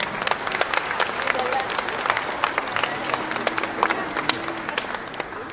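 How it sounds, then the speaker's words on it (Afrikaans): Church congregation at a Christmas carol service clapping for children, a dense burst of applause with sharp individual claps close by and some voices mixed in. "kan ons vir hulle 'n groot hande klap gee"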